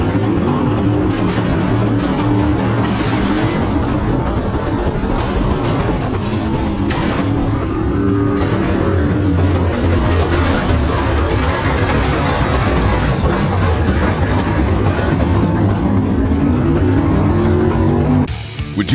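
Race cars at New Smyrna Speedway roar around the track in a loud, continuous wash of engine noise, with passing cars swelling and fading throughout.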